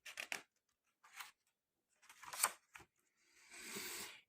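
Scissors snip in short, crisp bursts, a few quick cuts followed by pauses and then a longer rasping slice, faint and close with no talk over them.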